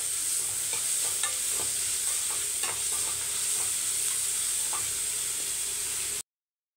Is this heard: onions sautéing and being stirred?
yes